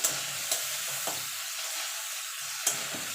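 Ginger, green chili paste and tomato sizzle while being stir-fried in a pan, a steady frying hiss broken by a few sharp spatula scrapes and stirs.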